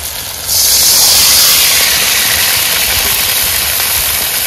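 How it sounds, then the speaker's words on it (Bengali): Water hits a hot pot of potatoes for Bengali-style mutton cooked in a clay handi, breaking into a loud, steady, close hissing sizzle that slowly eases. "আলু হয়ে গেছে, এবার জল দিয়ে দিচ্ছি।"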